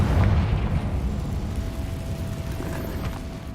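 A Confringo fire spell in Hogwarts Legacy bursts into a loud, close rumbling explosion that fades into a sustained low roar, with no voices.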